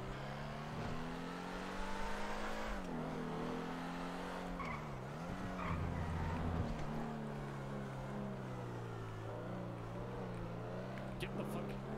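A car engine in a role-play driving video game drones steadily throughout, its pitch rising and dipping as it revs, with tyre noise mixed in, heard behind people talking over voice chat.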